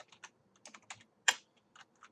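Code being typed into R on a computer keyboard: quiet, close, irregular key taps in quick clusters with one sharper louder keystroke, no voices.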